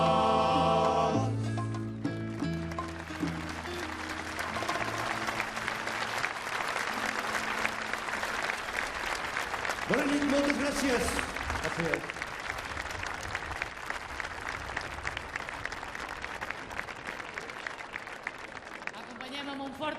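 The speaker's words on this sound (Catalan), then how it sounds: "Acompanyem amb un fort aplaudiment als cremats" Audience applause from a crowd at an open-air havaneres concert in Calella de Palafrugell, steady and sustained after the music fades, with a voice briefly speaking over it near the start.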